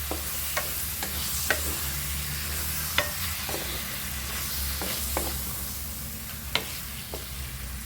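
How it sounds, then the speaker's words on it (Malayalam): Marinated chicken mixed into frying masala for a pepper chicken roast: a low, steady sizzle broken by sharp, irregular clicks and taps of a spoon against the pan. "മാരിനേറ്റ് ചെയ്ത് വെച്ച ചിക്കൻ ചേർക്കുകയാണ് കേട്ടോ നന്നായിട്ട് മിക്സ് ചെയ്യുക"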